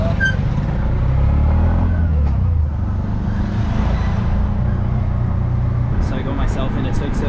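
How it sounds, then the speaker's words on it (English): A tuk-tuk motor rattles and revs on Samal Island in the Philippines, steady road rumble throughout with brief faint voices near the end. "So I got myself in a tuk-tuk"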